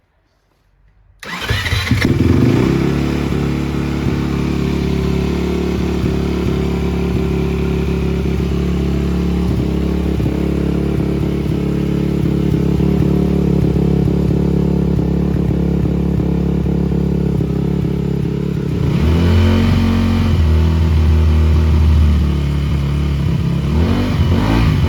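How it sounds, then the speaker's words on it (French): A 2018 Honda CRF 250 motorcycle, freshly given an oil change, catches after a brief silence and settles into a loud, steady idle close by, then is revved hard a few times near the end. "Bon, vidange faite, la moto tourne bien"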